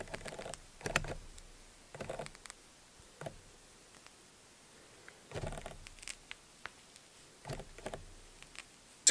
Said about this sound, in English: if you find any that are too stuck together, you can pull it apart. You'll hear it just kind of ripping.